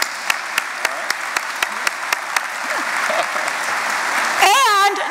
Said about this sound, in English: Would you all join me in applauding David on a job well done?